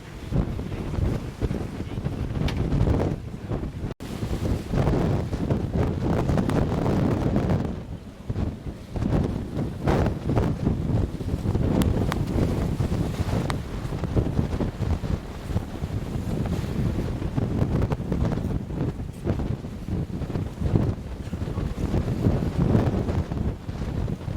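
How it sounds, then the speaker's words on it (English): Strong wind roars steadily and loudly, buffeting the microphone throughout with a constant rushing noise. "It's just so windy."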